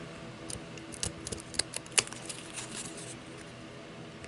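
Scissors snipping glitter paper around a cardboard pattern for craft tags, a few soft, close, irregular clicks and cuts in a quiet room.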